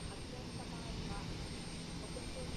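An airliner at Osaka Itami Airport gives off a steady, faint, distant engine roar that holds evenly with no clear rise or fall.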